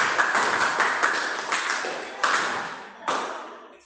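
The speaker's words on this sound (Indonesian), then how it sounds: "tepuk tangan ya" Classroom clapping in response to a teacher's request, a burst of many hands that fades and then returns in two short renewed bursts, fairly close and alone without talk.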